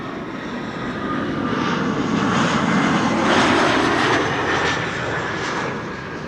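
A KLM Embraer 175 jet arriving at Amsterdam Schiphol, a loud close engine roar with a high turbine whine that swells to a peak and then slowly fades, heard alone.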